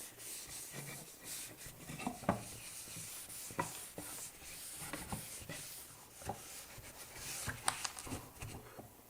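A cloth rubs boiled linseed oil onto the wood of a chest built from scrap wood and leather, making soft, steady, quiet scrubbing strokes with faint rhythmic swishes and no talk.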